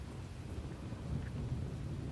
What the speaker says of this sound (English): Oh, I'm in heavy rain.